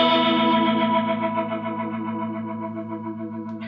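A held, rich guitar chord rings through a Strymon Lex V2 rotary speaker pedal with the mic distance control turned up, swirling with a thick, wobbling modulation as it slowly decays.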